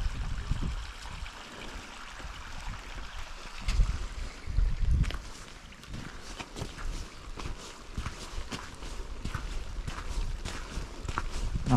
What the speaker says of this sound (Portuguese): A água desce da fenda e